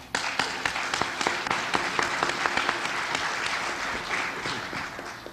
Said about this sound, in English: I think by and large you ought to give yourselves a round of applause for that